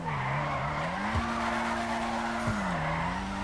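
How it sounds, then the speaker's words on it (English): Futo drifting in GTA Online, modeled on the Initial D AE86: a steady engine drone wavers in pitch as the rear slides, with tire skid and squeal running throughout and two brief thumps, no talk. "To be frank, it's still a Futo, so it should be easy to drift."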